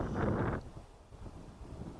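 Wind gusts across the microphone at an outdoor high school boys' soccer game, a loud rumbling buffet for the first half second that then drops to a lower, uneven breezy rustle.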